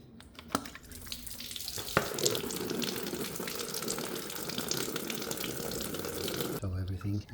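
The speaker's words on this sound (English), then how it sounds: "In order to drop the coolant, you have to open this." Coolant pours from an opened drain on a Honda Africa Twin CRF1100 radiator, a steady splashing gush of liquid running continuously for several seconds after a couple of sharp clicks, close and moderately loud.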